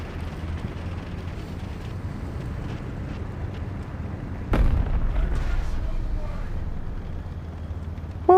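A Sherman IC Firefly's long 76mm gun fires once in War Thunder Mobile, a sudden heavy boom over a constant low engine rumble, with a faint sharper report at the very end.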